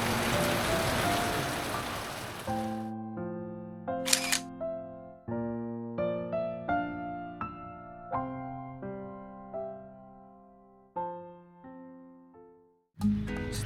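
Rain falls steadily in Chitral, northern Pakistan, a dense, even wash heard at the start and again at the end, with clear, plucked melodic notes ringing in between.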